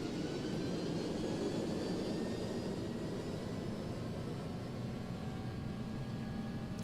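Airbus A300-600 jet engines roar steadily during a takeoff roll in the X-Plane 12 flight simulator, a loud continuous broadband rumble with a thin whine above, unbroken for the whole stretch and free of talk.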